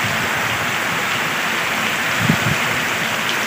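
Dense monsoon downpour in rural Gujarat drums steadily over waterlogged ground and soybean fields, a loud continuous hiss with a couple of heavier splashes midway and no voices.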